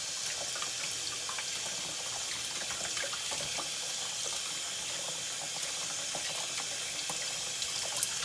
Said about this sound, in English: we're going to run it under the faucet again